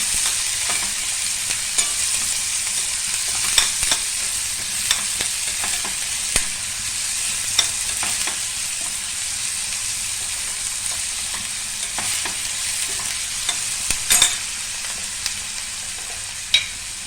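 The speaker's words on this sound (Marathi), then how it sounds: "आपण आता कांदा परतून घ्यायचा" Chopped onions sautéing in a hot pan, a constant loud sizzle broken by repeated scraping and stirring strokes at an irregular pace, with no talking.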